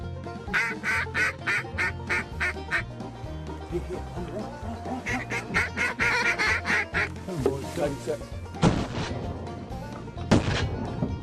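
Ducks quack during a duck hunt, including a drake, repeated rhythmic bursts of calls close by, with a few sharp gunshot-like cracks near the end and people talking in between.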